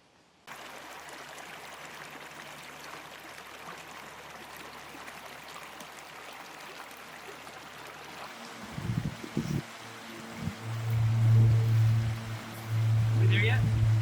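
A flowing creek at a backcountry creek crossing on a morning drive, a steady broad rush of water throughout, joined near the end by a low engine rumble and some movement noise.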